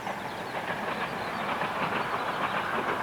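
A train running on the Esk Valley Line through countryside between Whitby and Middlesbrough gives a steady rolling rumble with faint wheel clatter, continuous and fairly even throughout.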